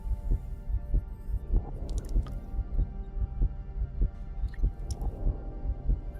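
A steady, rhythmic heartbeat thumps as a low sound effect in the video game Star Trek Voyager: Across the Unknown, with faint chimes and interface tones above it and no voices.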